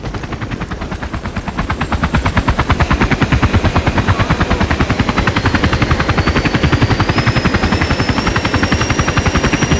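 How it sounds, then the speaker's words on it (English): A hostile helicopter in the video game Battlefield 2 thunders close and loud, its rotor beating in a fast steady chop that swells after a couple of seconds and holds for nearly ten seconds, with a faint whine rising above it. "Hostile chopper identified."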